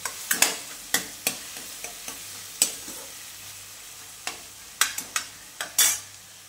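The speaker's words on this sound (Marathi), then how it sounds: "आपला कांदा छान लालसर भाजत आलेला आहे" Chopped onion fries in a pan until reddish brown, with a spatula scraping and stirring in repeated short strokes over a soft sizzle.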